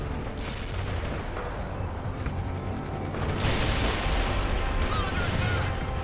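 Artillery fire-support barrage in the World in Conflict video game: dense, continuous booming rumble and crackle that swells louder halfway through, with no clear gaps between blasts.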